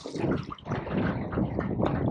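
Confused sea water sloshing against a fishing boat hull, a near, continuous churn of water with soft irregular slaps and some wind buffeting.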